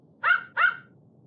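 A cartoon robot dog gives two quick, bright barks in succession, close and clear, followed by silence.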